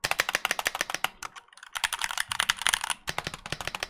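Rapid, clacky keystrokes on a 60% mechanical keyboard, typed in close bursts with a short pause in the middle before the typing resumes.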